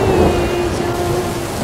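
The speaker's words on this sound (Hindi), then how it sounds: "बारिश फिर शुरू हो गई थी। तेज बारिश, बहुत तेज बारिश।" Heavy rain falling on the trek to Kedarnath: a dense, steady roar of downpour with a low rumble beneath, loud and unbroken throughout the short stretch, no talking.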